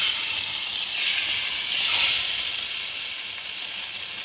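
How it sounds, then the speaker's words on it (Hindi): Hot tadka tempering poured into cooked chana dal sizzles loudly up close, a steady bright hiss that swells briefly, then settles with no talk. "इसमें हम लगाएंगे अपना तड़का।"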